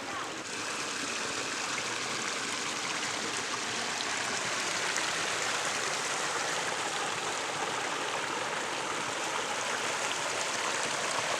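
A small creek flows steadily past a backpacking campsite in Utah, a constant close rushing and burbling of water with no pauses.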